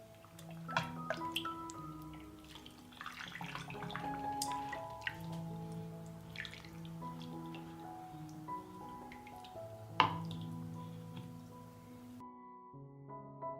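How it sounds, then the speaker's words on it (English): Pepper marinade dressing poured into glass jars, with soft trickling and dripping splashes and occasional light clinks of glass, quiet and close, ending in silence. "I will fill the jars with the dressing in which we marinated the peppers."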